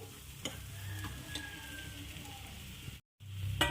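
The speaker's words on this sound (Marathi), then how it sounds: "आपले आलू कसं तेल सुटलेलं आहे मसाल्यामधून" Dum aloo in masala gravy sizzles in an oily pan as a spoon stirs it, a soft steady frying hiss with occasional scraping taps, close and without talk.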